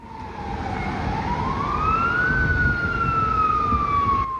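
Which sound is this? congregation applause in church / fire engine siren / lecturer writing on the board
fire engine siren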